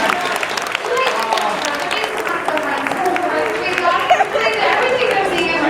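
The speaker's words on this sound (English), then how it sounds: "Big hand for John, everybody." An audience on a Universal Studios Hollywood tour applauding, clapping mixed with crowd chatter and voices talking over it, steady and fairly loud for several seconds.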